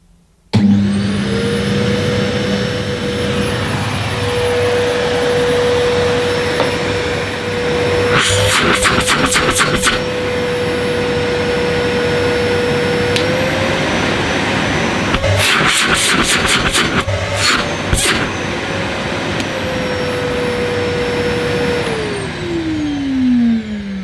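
A Numatic Wendy vacuum cleaner on low speed hums steadily at a low, even pitch for a long stretch, with intermittent rattling bursts and a drop in pitch as it winds down.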